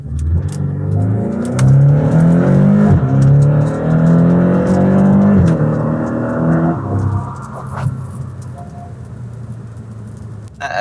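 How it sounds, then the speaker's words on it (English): A Lexus LC 500 launches hard on a wet road, its loud engine note climbing through rising gear pulls with shifts, then easing off as the car settles into a cruise toward the end. "I'm gonna boost and then drive off"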